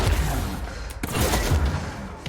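Enemy gunfire in the video game Control, a few close, loud cracking shots and thuds over a dense rumbling background of combat noise, with no talking.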